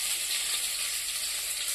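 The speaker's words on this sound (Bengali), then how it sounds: "এই যে দিয়ে দিয়েছি ভাজার জন্য বসিয়ে।" Besan-battered bok flower pakoras frying in hot oil, a steady, fairly quiet hiss and sizzle throughout with no talking.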